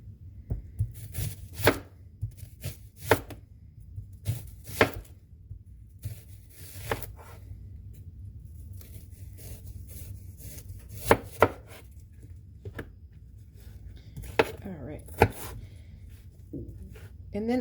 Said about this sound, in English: you want to thinly slice your onion